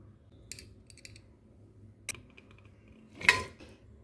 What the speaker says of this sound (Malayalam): നമ്മളെടുത്ത് വെച്ചിരുന്ന എല്ലാം കൂടി കുക്കറിലേക്ക് ഇട്ട് കൊടുത്തിട്ടുണ്ട്